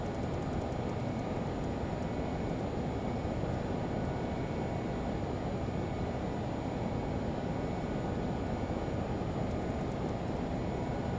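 A Learjet in a Flight Simulator video game slows to approach speed, its engines producing a constant, even broadband roar that holds steady throughout.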